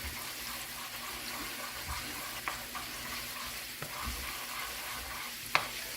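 Ginger sautéing in a pan for a bitter gourd and egg dish: a soft, steady sizzle and stir with a few faint clinks of a utensil against the pan, all at low volume with no talk.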